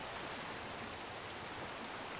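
Steady rain falls in Minecraft, an even, dense hiss of drops with no pauses or voices, moderately quiet.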